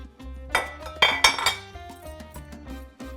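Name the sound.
potatoes and carrots added to stew pot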